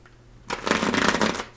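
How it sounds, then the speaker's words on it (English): A deck of playing cards is riffle-shuffled up close, a quick burst of crisp fluttering slaps lasting about a second after a quiet pause, with no talking. "Like these aren't clean shuffles."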